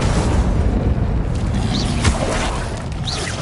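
An Incendio fire spell cast in the video game Hogwarts Legacy: a loud, dense whooshing boom of roaring flame that fills the moment with a couple of brief swishing accents.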